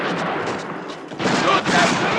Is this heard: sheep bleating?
no